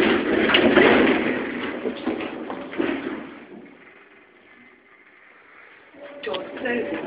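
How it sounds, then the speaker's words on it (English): A Stannah lift door at a Premier Inn slides shut with a broad rumbling rush, then quiet hum, followed by a brief electronic tone and renewed mechanical noise. "Door closing."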